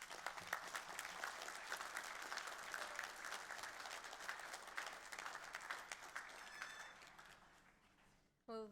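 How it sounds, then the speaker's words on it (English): Graduates applauding themselves at a Victoria University graduation ceremony in Melbourne: a large hall full of sustained, dense clapping that gradually tapers and fades before a sudden cutoff near the end. "Please give yourselves a round of applause."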